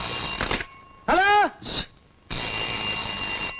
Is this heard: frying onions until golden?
no